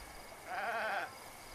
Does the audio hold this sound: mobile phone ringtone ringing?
no